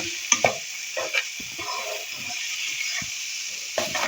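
Chana dal stirred and frying with spices in a pan, a soft continuous sizzle broken by repeated spoon scrapes and stirring knocks at an unhurried rhythm.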